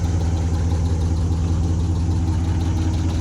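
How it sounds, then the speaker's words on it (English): A rebuilt Hemi V8 in a Dodge Durango idles close by with a steady low rumble and a fast, even ticking running through it, loud and unbroken with no voices. "The typical Hemi Tick in full force."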